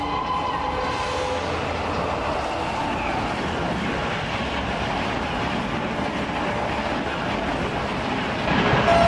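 A train rumbles past close by, a steady broadband roar with rattling undertones that holds throughout and swells slightly at the end.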